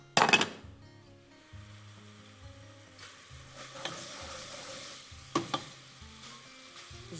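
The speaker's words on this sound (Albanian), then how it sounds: "Është skuqur qepa." Onions sizzle and fry in a pan, a steady low crackle with occasional sharp clinks and scrapes of stirring against the pan, no voices.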